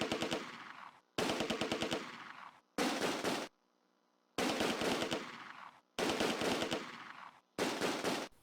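Machine gun fire in the World War II game Close Combat A Bridge Too Far, in the Veghel town battle: loud bursts of rapid automatic shots, each about a second long, separated by brief silent gaps, with no talking.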